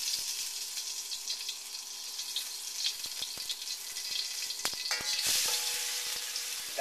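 A heaping teaspoon of garlic and ginger mixture sizzles steadily in a couple tablespoons of hot oil, a dense close crackling hiss with sharp pops and clatter from stirring, no voices.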